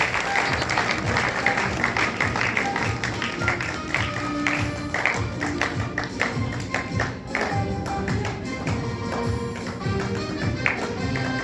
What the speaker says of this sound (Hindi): इस बच्ची के लिए जोरदार तालियों से इसका स्वागत करें।